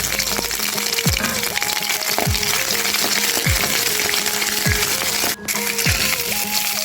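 Mustard seeds, fennel, crushed ginger and garlic fry in a hot pan for an egg roast, giving a steady close sizzle with faint crackles and occasional scraping knocks throughout.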